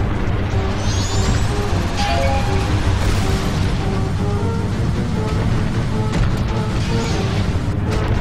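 A bomb explodes in the Zelda: Majora's Mask video game, a loud booming blast within a dense, continuous wash of game noise and music.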